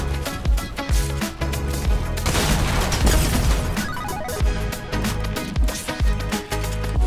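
Gunfire in a Fortnite match rings out as a rapid series of loud, punchy shots over pounding impacts, the bursts coming in irregular clusters for about seven seconds with no voices on top.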